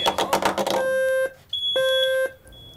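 A conventional smoke alarm sounds loud electronic beeps: two long, steady, piercing tones separated by a short gap, following a burst of rapid chirps at the start.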